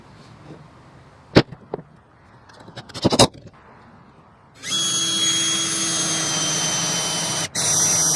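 A power drill drives pocket-hole screws to fix a scrap-wood headphone stand to its base: a few sharp clicks and brief bursts, then a loud steady motor whine for several seconds with a short break near the end.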